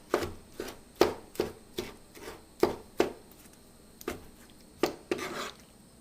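Knife chopping tomatoes on a board for tomato salad, a series of about a dozen crisp, close thuds in an uneven rhythm, quiet overall with faint rustling between cuts and no talking.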